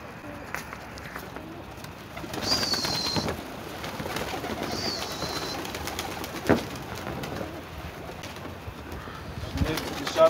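Domestic pigeons coo in low, soft repeated calls in a loft, with bursts of wing flapping as birds take off and scattered rustling and movement around them.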